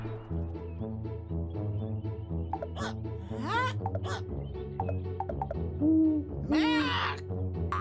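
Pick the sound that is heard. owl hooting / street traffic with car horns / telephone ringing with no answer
owl hooting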